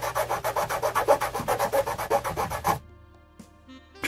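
Rapid back-and-forth rasping of a coarse file across a carved wax pendant, about a dozen even strokes close up, then stopping abruptly into near silence.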